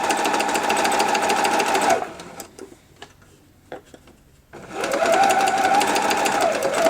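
A sewing machine stitches fabric in a steady whirring run, pauses for a few seconds of quiet clicks and handling, then resumes for a back stitch at the end of a seam on a grime guard.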